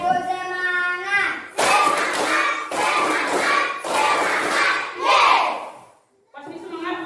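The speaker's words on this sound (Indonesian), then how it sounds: "Bisa beri Bapak tepuk semangat?" A class of schoolchildren standing in a classroom perform the rhythmic 'tepuk semangat' spirit chant, sharp bursts of unison clapping mixed with shouted voices in several loud groups, ending in a brief pause before voices resume.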